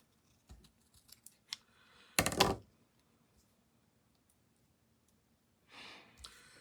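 Scissors snip through paper while fussy cutting pieces for a craft project, a few quiet scattered cuts followed by one loud close burst of cutting and a softer rustle near the end.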